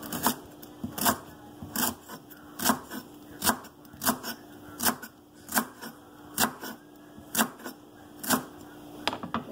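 Lemongrass stalks chopped with a knife on a board for tea, about a dozen crisp, evenly spaced cuts in a steady rhythm, close and clear over a quiet background.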